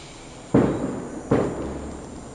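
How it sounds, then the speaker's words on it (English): Two sharp firework bangs burst about a second apart, each with a decaying rumble, heard at a distance over a low steady background during a live PS5 Elden Ring session. "fireworks"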